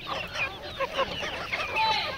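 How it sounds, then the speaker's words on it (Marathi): Native desi hens on a poultry farm cluck and call in a busy overlapping flock, close by, with short squawks rising above the murmur and no talking. "फक्त ओरिजिनल गावठी कोंबड्या आहेत सर्व"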